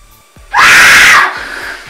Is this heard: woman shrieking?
yes